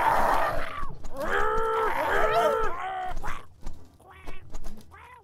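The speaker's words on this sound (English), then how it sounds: "Throw them birds! Throw them birds!" Birds thrown into battle in Totally Accurate Battle Simulator give off loud, overlapping quacking and squawking cries, trailing into a few shorter, scattered calls near the end.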